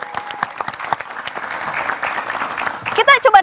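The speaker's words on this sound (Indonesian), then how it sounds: "Tepuk tangannya lagi dong." A studio audience claps steadily for about three seconds, a dense, fairly loud patter of hands that fades as a person begins talking.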